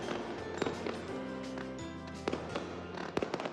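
Fireworks bursting over Dubai during a festival celebration, a run of sharp cracks and pops scattered through the stretch, some loud and close, some fainter, over a steady crowd-like wash.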